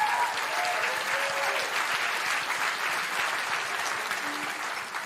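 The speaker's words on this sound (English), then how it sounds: "Let's give them a round of applause" A large conference audience applauds the development team at a game company's LevelUp Day event, loud dense clapping that holds steady throughout and tails off slightly at the end.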